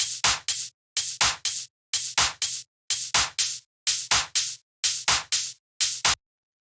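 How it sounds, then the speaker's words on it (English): A looping tech house pattern of sharp claps and bright hi-hat hits, repeating in tight pairs with brief gaps between, crisp and dry with no other instruments. "which would be this clap and the hi-hat."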